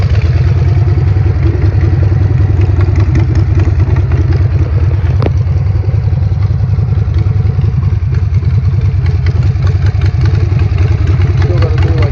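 A 2003 Harley-Davidson Sportster 1200 idles close by, a loud, steady low-pitched lumpy rumble with clattering mechanical ticks that runs throughout.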